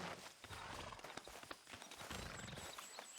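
Horse hooves in the video game Red Dead Redemption 2, a steady clip-clop of walking steps set against a dense, busy background ambience, with no talking.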